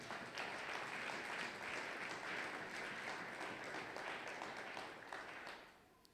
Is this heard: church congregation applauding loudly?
yes